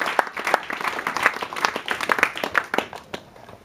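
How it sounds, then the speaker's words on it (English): An audience claps for a speaker at a community gathering, the separate hand claps sharp and distinct, fairly close, in an uneven patter that thins toward the end. "Let's give our brother a big round of applause."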